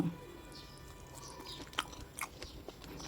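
Someone chews a bite of Thai omelette fried in oil on low heat, with a few soft crunchy bites and mouth sounds spread over a quiet background.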